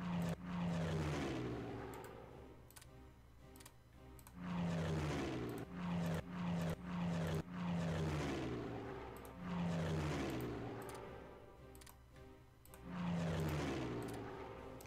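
Engines of massed warplanes in the strategy game Darkest Hour swell and fade in repeated drones, each pass rising to a roar before dying away, with short choppy bursts between.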